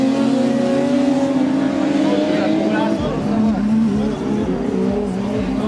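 BMW race cars battle down the straight at a 2014 BMW meet, engines howling loudly and steadily with a shift in pitch midway as they pass close, under excited race commentary.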